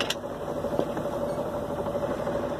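A sailboat's engine runs steadily while motoring along the coast, a continuous mid-pitched drone with a faint rhythmic knock and vibration, fairly loud and constant with no voices.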